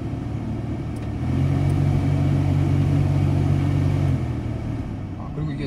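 Interior of a 2000 Hyundai Galloper nine-seat LPG four-wheel-drive van while driving, with a steady low engine drone that grows louder and more rumbling midway and then eases back.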